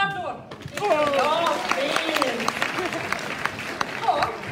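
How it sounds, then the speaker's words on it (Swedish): Audience applause at a school concert, with steady clapping that builds and holds at a fairly loud level while voices call out over it. "Stor applåd!"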